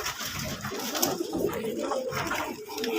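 Pigeons coo close by during a night feeding, soft low throaty calls repeating over a dense, busy background with no speech.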